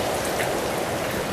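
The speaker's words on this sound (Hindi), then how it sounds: "बहुत तेज बारिश आ रही।" Heavy rain pours down in a steady, dense hiss with no pauses, loud and close, filling the whole stretch without any voices.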